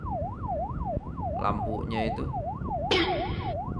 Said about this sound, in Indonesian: Oh, ambulans. Saya kira polis tadi.